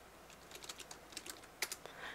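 Quick bursts of keystrokes on a computer keyboard while joining a self-hosted Minecraft server, light uneven taps close by with one sharper clack near the end and no voices.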